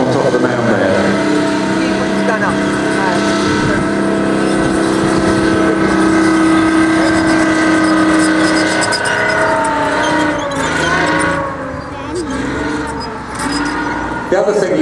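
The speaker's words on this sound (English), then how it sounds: "he's just going to show you how mobile a 60-ton tank can be by driving up on top of the mound there" A 60-ton tank climbing onto a mound at Bovington, its engine droning and rumbling steadily and loudly with shifting pitch as it works up the slope, with someone talking over it.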